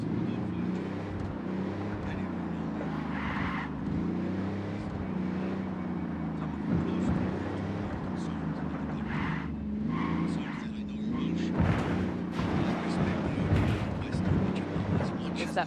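Car engine droning steadily while driving in Ghost Recon Wildlands, a low continuous hum with shifting pitch and occasional bumps, with people talking over it.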